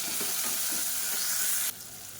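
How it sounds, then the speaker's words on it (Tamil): Onions sautéing in coconut oil in a pan for chicken kurma, a loud close steady sizzle with faint stirring scrapes that drops sharply in level near the end, no talking. "இப்போ வெங்காயம் ஓரளவுக்கு வதங்கிருச்சு."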